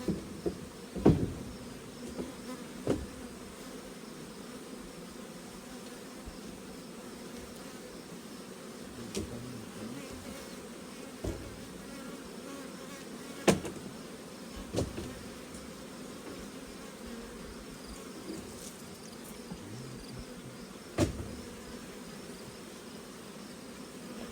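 A dense, steady drone of honey bees at an open hive during winter nest preparation in August, with a few sharp clicks and knocks scattered throughout, no voices.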